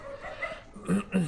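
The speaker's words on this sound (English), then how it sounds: "if you hear some dogs barking in the background" Dogs barking in the background outdoors, a couple of short yips and whimpers rising at the end over a low steady noise floor.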